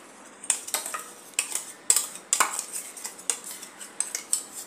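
Spice paste for stuffed bitter gourd scraped from a grinding jar onto a plate, heard as a run of sharp metallic spoon scrapes and taps against steel, close and fairly loud, irregular, with no talking.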